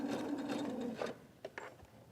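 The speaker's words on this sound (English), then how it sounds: "And I'm sewing slowly." A sewing machine stitches quilt-block fabric at a slow pace, a steady mechanical whir for about a second that then breaks into a few short, quieter bursts of stitching, close up with no talking.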